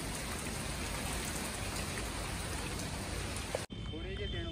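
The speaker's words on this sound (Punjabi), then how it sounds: "ਦੇਖੋ ਮੀਂਹ ਪੈਣ ਡਿਆ ਫੁੱਲ" Heavy rain pours down steadily as a dense, even hiss of drops for several seconds, then stops abruptly, leaving quieter background sound.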